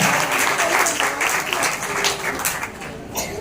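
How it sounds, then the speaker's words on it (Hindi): A church congregation at a Palm Sunday service claps loudly and continuously, a thick wash of hand claps with faint voices mixed in and a brief lull near the end. "भाइयों के लिए जोरदार तालियां।"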